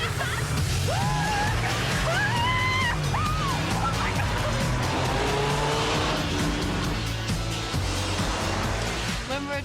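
Lotus sports car driven hard through London streets, tires squealing in rising and falling pitched chirps over a busy engine and traffic roar, with excited voices heard briefly.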